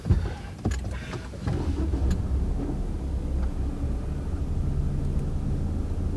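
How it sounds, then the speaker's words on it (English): Inside a Lexus UX200, a few clicks and a thump, then a quiet low engine hum that settles into a steady, subdued idle heard from the cabin. "Let me start the engine."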